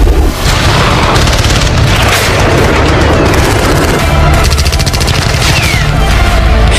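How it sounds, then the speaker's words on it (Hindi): Chinese multi-barrel rocket launchers and artillery fire in a very loud, dense barrage of overlapping booms and rapid bursts that roars on continuously. "Multi barrel rocket launcher, artillery यानी तोप।"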